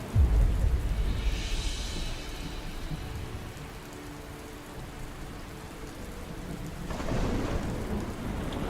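Heavy rain pours steadily while thunder rumbles loud at the start and again near the end, with no talking over it.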